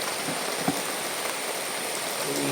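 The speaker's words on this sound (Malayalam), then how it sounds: "നല്ല മഴ. രാത്രിയാകുമ്പോഴേക്ക് ഇനിയും വർദ്ധിക്കും." A heavy downpour falls over flooded land beside a house, a loud unbroken roar of rain with a few nearby drips and splashes and no speech.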